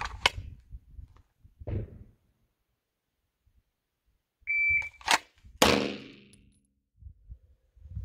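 Pistol drawn and fired against a shot timer: a short electronic start beep, then two sharp, close metallic shots in quick succession, with scattered handling thumps and quiet pauses around them.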